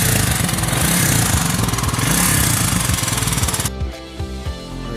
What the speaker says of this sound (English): She's idling a little high at the moment.